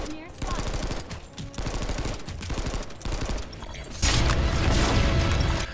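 Rapid automatic gunfire fills a shooter video game as a light assault player trades fire with an enemy; close, repeated bursts lead into a louder, denser volley at the end.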